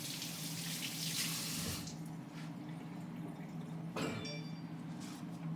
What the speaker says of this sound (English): The first thing we have to do is we have to wash our hands